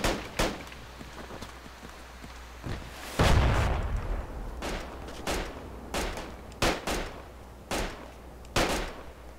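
Gunfire in the military shooter Project Reality at Al Basrah, with sharp bursts and single cracks spaced irregularly and one heavier rumbling blast, some shots near and loud, others more distant.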